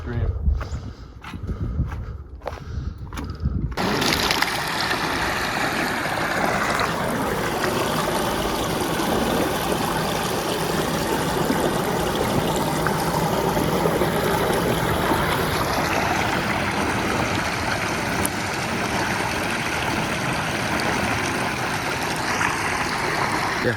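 Stream water flowing outdoors at sunset, a steady broadband rush and trickle that fills the whole stretch after a few seconds of rustling and handling noise; people talk faintly over it.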